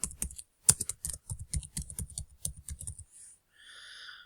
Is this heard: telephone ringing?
no